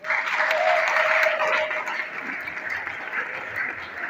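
A congregation gives a round of applause at a church wedding blessing, steady close clapping that swells early and then eases off slightly.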